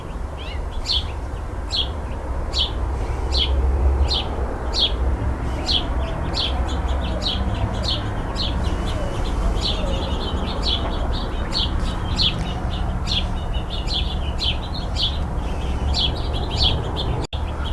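Repeated bird chirps and tweets ring out over a steady outdoor hum, a lively series of calls continuing throughout.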